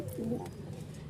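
A pair of grizzle pigeons gives a single soft, close coo lasting about a second against a quiet background.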